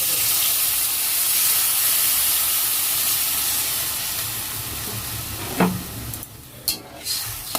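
Water poured into a hot pan of mangoes cooking in oil with a little salt releases a loud, steady steamy hiss that eases off, followed by a few clanks of utensils near the end.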